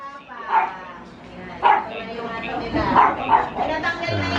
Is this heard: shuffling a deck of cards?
no